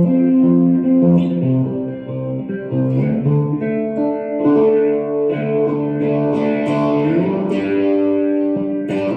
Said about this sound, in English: Or full on distortion.